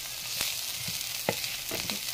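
White onion sautéing in a hot pan gives a steady, close sizzle, with a few sharp scraping stirs of the utensil against the pan over the frying.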